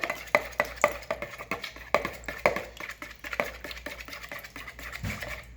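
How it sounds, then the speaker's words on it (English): A spoon stirring muffin batter with vanilla in a bowl, producing a string of irregular taps and clinks against the bowl, close and fairly quiet, with a soft wet swish between hits. "I'm going to mix this together,"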